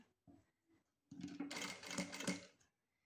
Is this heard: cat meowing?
no